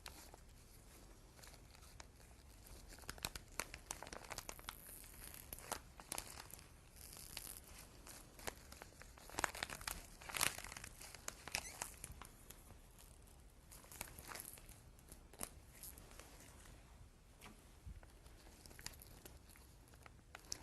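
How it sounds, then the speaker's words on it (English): Povidone iodine swab package being torn open by hand during a urinary catheter insertion procedure, with repeated crisp crinkling and ripping bursts of plastic-foil packaging close by, fairly quiet and without speech. "take your povidone iodine swabs, open the package at the tear here"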